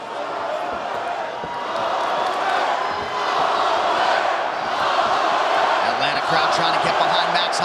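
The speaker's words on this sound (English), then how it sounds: "Crowd trying to get behind Max Holloway here." Arena crowd at a Dustin Poirier vs Max Holloway fight cheering and roaring in support of Holloway during the fifth round, a steady dense wall of voices that swells slightly midway, with a commentator talking over it.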